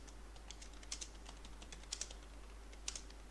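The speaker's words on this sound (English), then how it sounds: "You can see whatever I'm typing here." Fingers type on a computer keyboard in quick irregular clicks, with a few sharper key strikes standing out, faint and close in an otherwise quiet room without talk.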